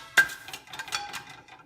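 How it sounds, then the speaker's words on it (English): An ingredient drops into a pan with one sharp metallic clink, followed by a few softer clatters and light rustling, close and fairly quiet with no voices. "We're going to just place our last ingredient in the pan."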